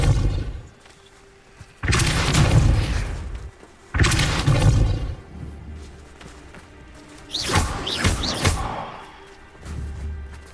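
Expulso blasting spells go off in Hogwarts Legacy as a series of loud, close explosive bursts with whooshing, crackling tails. Two heavy blasts come early, then a cluster of sharper bursts later, with quieter rumbling between them.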